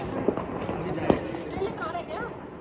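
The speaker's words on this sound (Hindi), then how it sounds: "सबसे महंगा पटाखा और सबसे बड़ा यही है ना" Firecrackers burst during a Diwali celebration, a few sharp pops standing out over a steady crackling din, with people talking throughout.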